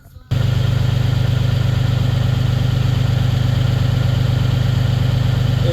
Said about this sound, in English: what I'm going to do is fire the tractor up